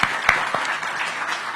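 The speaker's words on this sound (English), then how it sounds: "One round of applause." Applause from a crowd at a back-to-school night and elementary school ribbon cutting, a short burst of steady clapping lasting under two seconds.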